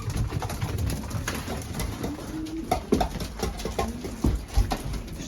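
Racing pigeons coo repeatedly inside a loft, soft throaty calls overlapping at close range with light fluttering and scratching in the background.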